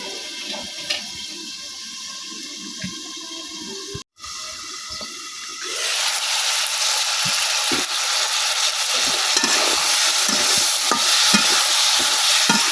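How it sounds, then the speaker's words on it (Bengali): Vegetable stems are stir-fried with spices in a pan, starting with a soft scraping stir, then a sudden burst of loud, continuous close sizzling and hissing that carries on to the end with occasional stirring knocks. "আমার ডাটাগুলো কিন্তু কষানো হয়ে গেছে"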